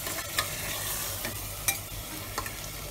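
Mutton curry gravy being stirred in a pot, a low continuous simmering sizzle broken by a few faint, sharp scrapes of a spoon.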